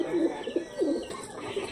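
Pet pigeons coo in a few soft, rolling phrases close by, each burst short and throaty with brief pauses between, in an otherwise quiet outdoor setting.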